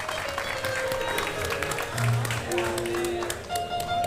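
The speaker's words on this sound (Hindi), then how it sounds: "जोरदार तालियां फॉर द एंटायर परिवार of the great Indian couple show" Studio audience applause on a comedy talk show, a steady wash of clapping at moderate level with background talk and music tones mixed in.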